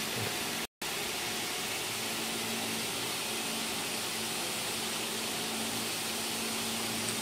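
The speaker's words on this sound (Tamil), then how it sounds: "கீழே பார்த்திங்கன்னா நமக்கு இந்த ஃபேப்ரிகேஷன் மிஷின் வந்து ரொட்டேட் ஆகிட்டு இருக்குது" A knitting machine rotates on the floor of a knitting factory, giving a steady dense whirring hiss with a faint low hum, continuous throughout apart from a brief cut near the start.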